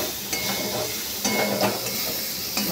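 Tomatoes sizzle and fry in a spice masala with turmeric, a continuous hiss broken by several distinct scraping stirs of a spoon against the pan, close and moderately loud.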